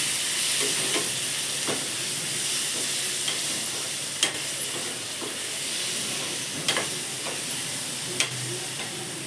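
Capsicum kootu with chilli powder sizzles in a pan while a utensil stirs and scrapes, with a few sharp clinks against the metal.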